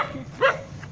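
A puppy in a home kitchen gives one short, high whimpering yelp, close by and moderately loud, over low background noise.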